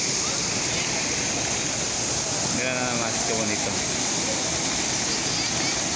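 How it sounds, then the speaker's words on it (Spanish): Waterfall and river at Los Chorros in Puerto Vallarta, a steady loud rush of falling and flowing water filling the whole clip, with a voice speaking briefly over it midway. "Está grabando la cascada."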